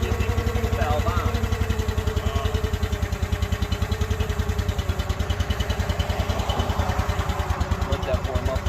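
A log splitter's small engine runs at a warm-up idle, a close, loud chugging with a rapid, regular pulse that keeps an even pace throughout, with faint voices in the background.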